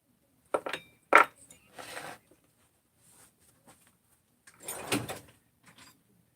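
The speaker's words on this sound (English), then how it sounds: "Here, let's pull the muffler." Parts of a Stihl 350 chainsaw's muffler being pulled off, with a few sharp metallic clicks and clinks of loosened hardware and light scraping in separate bursts, close by, with quiet gaps between them.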